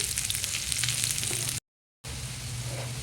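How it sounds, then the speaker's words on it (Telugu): Thinly sliced onions sizzle steadily in three tablespoons of oil with pepper and cloves, a close, even frying hiss with a brief cut to silence partway through. "త్రీ టేబుల్ స్పూన్ ఆయిల్ మిరియాలు లవంగా మూడు సన్నగా తరిగిన ఆనియన్స్ ఇవి బాగా ఫ్రై చేసుకోవాలి"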